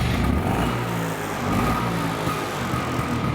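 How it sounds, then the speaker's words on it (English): A vintage Vespa scooter engine, kick-started with a quarter throttle, revs steadily and clears out in a continuous, fairly loud, rough drone lasting a few seconds with no talk over it. "you heard the motor rev and kind of clear right out"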